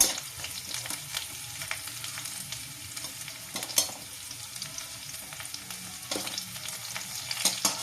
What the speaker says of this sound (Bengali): দেখতে পাচ্ছেন রসুনটা হালকা ভাজা ভাজা হয়েছে।